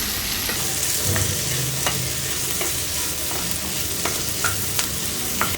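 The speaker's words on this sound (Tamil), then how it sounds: "இது ஒரு 2 நிமிஷம் நல்லா கொஞ்சம் வதக்கிட்டு ஆஃப் பண்ணிக்கலாம்." Green chillies and coriander sizzle and fry in a pan while being stirred, a steady hiss punctuated by scraping spatula strokes and small clicks, close and continuous with no talk.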